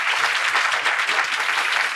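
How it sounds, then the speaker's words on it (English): Steady, dense applause from an audience of CA students at a talk on positive mental attitude, many hands clapping at once and evenly loud throughout, with no voices over it. "Give him an applause."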